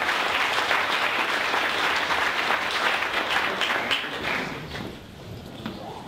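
Steady, dense applause from an audience after a tech meetup presentation, loud and sustained throughout before easing slightly near the end.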